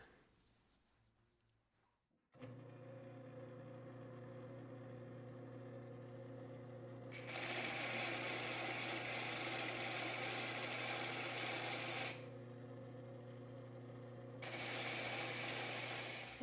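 An angle grinder with a 60 grit sanding disc runs steadily and loudly for about fourteen seconds, its harsh grinding rising in pitch and intensity while the disc bites into the work and easing back between passes.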